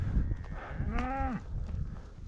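A single cow moos once during a fall cattle gather north of Reno, Nevada, a drawn-out low call that rises and falls, heard over rumbling outdoor noise.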